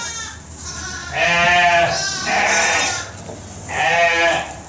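Lambs bleat in pens at a farm lambing event, including black Welsh twins, with three loud, drawn-out bleats close by, each lasting about a second. Short pauses separate the calls.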